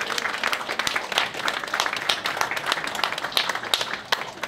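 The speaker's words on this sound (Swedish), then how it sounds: "Beata Reineborg får en applåd samtidigt som hon här nu sätter kniven i huset" Steady applause from a crowd at a school opening ceremony in Torsås, Sweden, many hands clapping at a moderate distance, continuous throughout.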